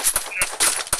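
Gunfire in the Free Fire battle royale game comes as several sharp, close shots in quick bursts within a second, with a brief tonal game effect between them.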